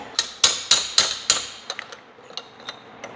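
A small hammer taps out the wrist pin of a snowmobile piston, five sharp metallic strikes in a steady rhythm followed by several lighter, quicker taps, all close and alone with no talk.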